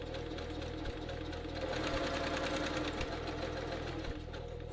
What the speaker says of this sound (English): I want to sew right next to the interfacing